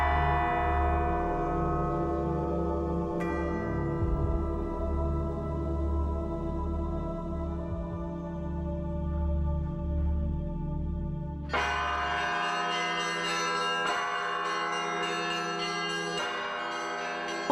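New church bells of the Solovki monastery in Russia ring with layered, sustained metallic tones, deep bells resonating beneath brighter strikes that join in loudly toward the end, with no voices.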